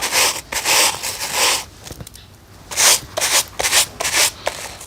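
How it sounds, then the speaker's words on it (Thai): White canvas sneakers scrubbed with Hygiene detergent, close, loud bursts of brushing strokes in uneven runs with a short quiet pause midway, no talking. "เดี๋ยวจะลองขัดไปดูเรื่อยๆนะ"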